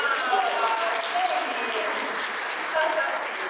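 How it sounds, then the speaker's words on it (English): Applause from a fan event audience honoring a guest named Jamie, a steady dense wash of clapping that holds for a few seconds, with voices faintly mixed in. "Round of applause for Jamie."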